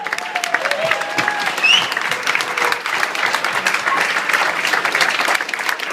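Standing audience at an Executive MBA graduation ceremony giving sustained, dense applause with occasional whoops for the class of 2011, loud and continuous throughout.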